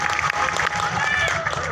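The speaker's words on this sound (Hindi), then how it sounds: "एक बार हमारे घिसू जी के लिए जोरदार ताली बजाओ आप लोग।" A crowd at an outdoor festival event in rural India claps loudly in a dense, continuous round of applause, with voices and some cheering mixed in beneath it.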